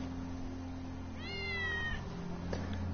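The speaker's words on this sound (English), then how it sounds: "That's Wedge's cat." Wedge's cat in Final Fantasy 7 Remake gives a single clear, drawn-out meow over a steady low background hum, moderately close.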